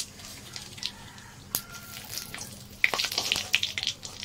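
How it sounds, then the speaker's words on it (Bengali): Cumin seeds and a bay leaf hit hot oil, giving a quiet, sparse crackle that grows into a livelier spatter of pops and sizzles in the second half. "তেলটা গরম হয়ে গেছে, জিরা ফোড়ন দিয়ে দেবো আর তার সাথে দেবো তেজপাতা"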